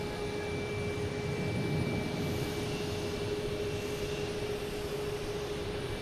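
A jet airliner at Boston Logan Airport roars in a steady, unbroken drone with a faint high whine, loud and constant throughout, with no talking.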